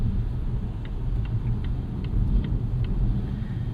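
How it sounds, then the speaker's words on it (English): A 2024 Volvo S60 Recharge T8 accelerates to 45 mph on a wet road, heard from inside as a low rumbling drone with tire and rain noise and faint ticking, steady and fairly quiet. "Give it a little bit of an acceleration here. Just up to 45"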